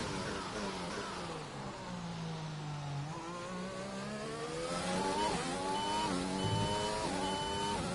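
Racing car engine in F1 2020 played on a Logitech wheel, revving steadily with rising and falling pitch through gear changes, loud and close with faint tire squeal, no talk.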